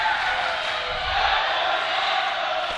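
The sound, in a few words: wrestling crowd chanting "that was awesome"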